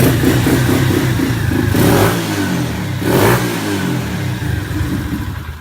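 A pit bike engine revs loud and close, rising and falling in pitch through several throttle blips over a rough, buzzing idle.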